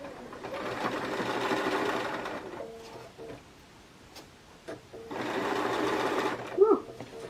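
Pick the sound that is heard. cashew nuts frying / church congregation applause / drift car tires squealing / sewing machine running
sewing machine running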